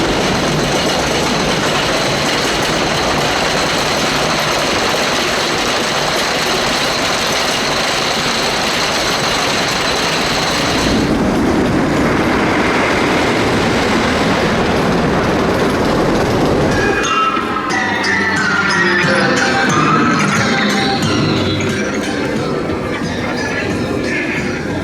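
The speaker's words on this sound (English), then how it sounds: "I'm going to wait for the train and I'll show you that coming down" Wicker Man roller coaster train at Alton Towers roaring down its drop, a steady rumbling rush that swells and shifts partway through, with faint wind and crowd ambience and no clear talking.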